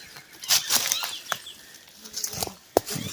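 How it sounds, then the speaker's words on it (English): Birds moving through thick woods, with bursts of fluttering wing flaps and rustling, a couple of sharp snaps and a faint chirp, close and uneven against quiet forest background. "And here's the birds. Birds are lively today."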